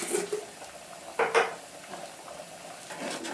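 Malabar fish curry with raw mango and sardines being gently stirred in an earthen pot, a few soft scraping clinks of the spoon against the clay near the start and middle, over a quiet simmer.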